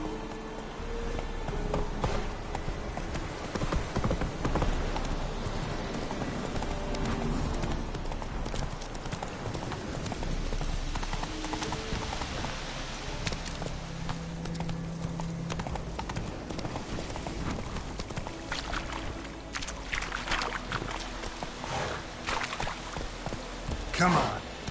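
A horse gallops in The Witcher 3 video game, with a steady, fast clip-clop of hooves running throughout over ambient game sound.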